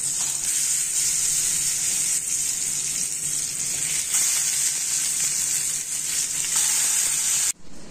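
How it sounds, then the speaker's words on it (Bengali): Fish frying in hot mustard oil in a wok, a loud continuous bright sizzle that holds steady throughout before cutting off abruptly near the end. "এবার মাছগুলোকে ভাজতে দিয়ে দেবো"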